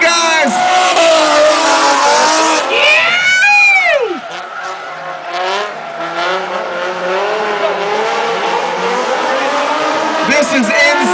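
Drift cars at Atlanta Motor Speedway during the 2005 NOPI Nationals roar past with loud, sustained tire squeal and screeching engines, pitch sweeping up and down as they slide, a commentator talking over the din throughout.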